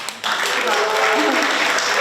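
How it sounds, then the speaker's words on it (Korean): Audience at a Korean political book concert applauding after a musical performance, a dense, steady clapping wash that swells in after a brief lull and holds loud throughout. "다시 한번 큰 박수 부탁드립니다"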